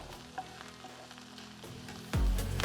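Garlic frying in a pan over medium heat, a soft sizzle with light stirring clicks that swells into a louder rush near the end, no talk.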